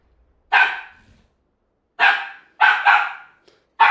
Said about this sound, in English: No, there's the barking.